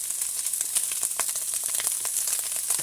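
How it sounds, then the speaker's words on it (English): Ginger and green onions stir-fry in a hot pan with a bright, crackling sizzle, spattering steadily under close, scraping stirs. "Stir fry."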